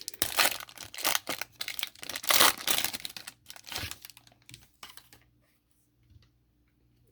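A 2013 Limited football card pack is torn open by hand, giving bursts of crinkling foil and paper rustle that run in uneven waves for about five seconds, then drop away to near silence.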